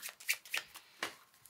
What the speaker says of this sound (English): I'm thinking the overhand shuffle.